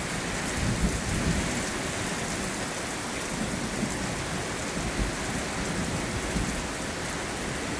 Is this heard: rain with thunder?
yes